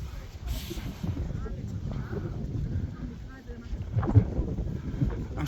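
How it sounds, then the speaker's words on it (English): Low, rumbling wind buffets the microphone throughout on Mount Carmel, Israel, overlooking the Mediterranean Sea, with a gusty, uneven roar and faint voices nearby. "I'm so sorry that it's a little bit windy."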